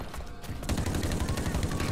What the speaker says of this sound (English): let's go with the AK.